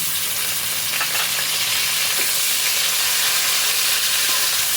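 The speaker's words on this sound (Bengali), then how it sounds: "এবার আমি এর মধ্যে দিয়ে দিচ্ছি টমেটো কুচি" Chopped tomatoes with ginger frying in a pan for a koi fish and cauliflower curry, giving a steady, loud, dense sizzle throughout with a few faint stirring clicks and no talk.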